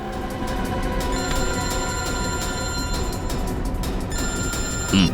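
A telephone rings on an incoming call, an insistent repeating bell that runs steadily throughout and is heard alone without voices.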